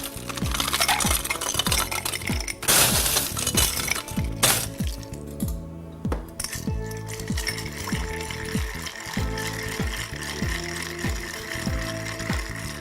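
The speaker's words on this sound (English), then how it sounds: "and give that a good little stir." Cocktail being stirred in a glass after dashes of Angostura, orange and chocolate mole bitters, a steady run of close, clinking, ratcheting scrapes that continues with no one talking.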